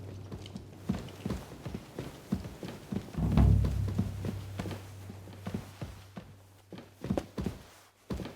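Horse hooves clip-clop at a steady walking pace in Kingdom Come: Deliverance II, close and distinct, with a low droning hum running underneath and a brief heavy thump midway.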